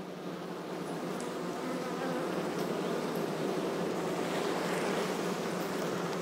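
Honeybees swarm around a beekeeper's hives, a dense, steady buzz of many insects close by that presses against a mesh veil and holds at an even loudness throughout.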